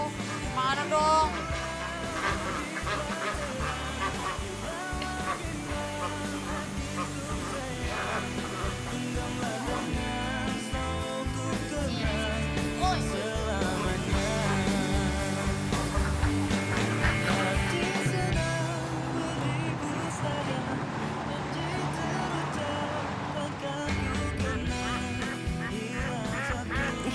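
A crowd of ducks quacks steadily in a duck pen, a dense, continuous chorus of overlapping calls that stays loud from start to finish.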